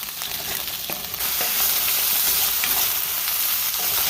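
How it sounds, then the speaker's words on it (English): Potatoes fry in a pan as a steady, loud sizzle, with scraping stirs breaking in early before the crackling hiss settles into a continuous wash. "I'm just gonna stir them up a little bit here and let them get crispy on the other sides as well"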